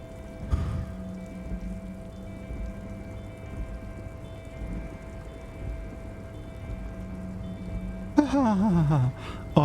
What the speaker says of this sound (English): Oh, I like the rain noise.